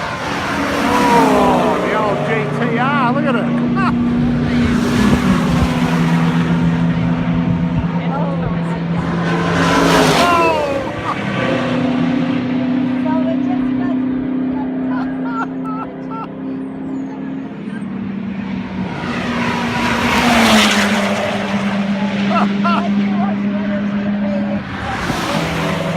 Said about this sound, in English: Oh, the old GTR, look at it.